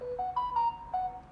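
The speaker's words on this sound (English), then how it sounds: "Oh, that's my phone, guys," A mobile phone ringtone plays a short, faint melodic sequence of pure electronic tones, several rising and held notes, heard alone with no talking.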